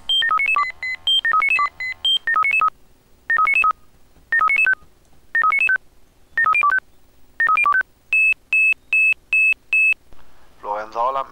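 German fire brigade alert tones from the Emergency 4 game: repeated bursts of rapid stepped beep sequences, then a run of five identical long high beeps, ending as a voice begins speaking.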